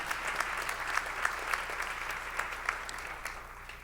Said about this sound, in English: That's an applause, I would say.